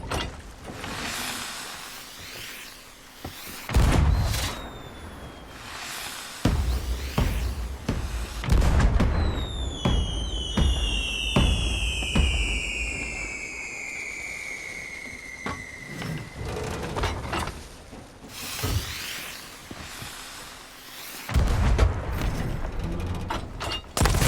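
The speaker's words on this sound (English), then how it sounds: "Man, I like your fireworks a lot better." Fireworks launched in the pirate game Sea of Thieves: a series of booms and bursts mixed with mechanical creaks, long descending whistling streaks in the middle, and several loud blasts spread over the stretch.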